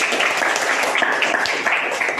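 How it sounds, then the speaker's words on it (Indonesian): A classroom full of people clapping steadily for a couple of seconds, a dense patter of hand claps with no pauses. "Tepuk tangan untuk Pinesta"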